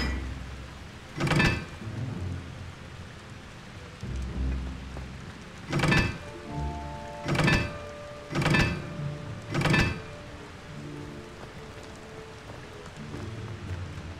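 Incendio fire spell cast in Hogwarts Legacy, a series of sharp whooshing flame bursts, about five loud, evenly spaced blasts over a quiet low ambient background.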